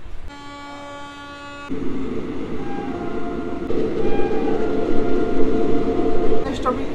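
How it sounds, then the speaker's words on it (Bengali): A train pulls out of Bankura station, a low rumbling roll and wheel clatter building after a sustained horn-like tone at the start, growing louder toward the end with a brief squeal. "এখন কিন্তু বাঁকুড়া স্টপেজ কিন্তু ডিপারচার হচ্ছে"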